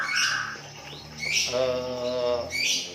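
A white-rumped shama sings nearby at a bird farm in clear, varied phrases of whistles and trills, loud and alone.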